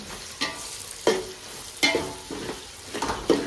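Onion and bay leaf frying in a pan, stirred in four or five distinct scraping strokes over a steady close sizzle, with no voices.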